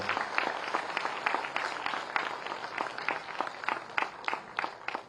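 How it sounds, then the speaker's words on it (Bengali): Applause from an audience honouring a new executive officer receiving a government job offer from the Chief Minister at a Tripura ceremony; steady, dense clapping throughout, moderately close, with no talk over it. "সবাই আরো একবার তার জন্য জোরে করতালি আশা করব"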